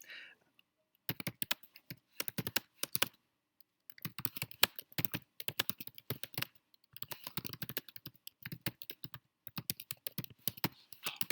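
Typing on a computer keyboard while entering a research question, with bursts of rapid key clicks separated by short pauses, close and fairly quiet.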